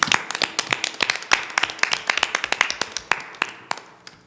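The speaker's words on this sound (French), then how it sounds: "On peut devant la caméra, l'applaudir." A small group clapping for an Olympic gold medal winner: sharp, distinct, close handclaps in an uneven patter that thins toward the end, with no talking.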